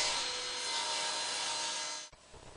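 Wooden apron rails for a table trimmed to width with a power saw, a loud steady broadband whine with no speech, cutting off abruptly near the end and leaving a quieter hum.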